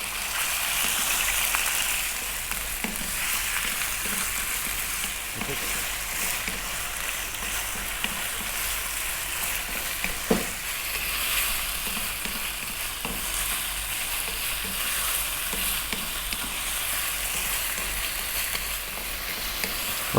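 Small pieces of lamb fry in a hot pan for a lamb lentil masala curry, a steady loud sizzle with occasional scraping and clacking as a utensil stirs them, no voices.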